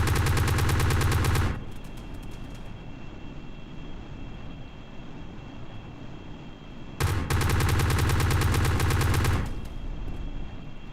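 Aircraft machine guns firing bullets in a combat flight video game, two long loud bursts of rapid automatic fire separated by several seconds of steady engine drone, close and dominant with no talk.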